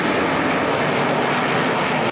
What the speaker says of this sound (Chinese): 轰炸机夜间从美国跑道上起飞，直飞到中东，狂轰猛炸。